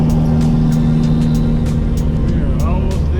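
Car interior drone on the ride over to a crowded TX2K20 event lot, a steady loud low engine rumble and road noise throughout with faint clicks above it.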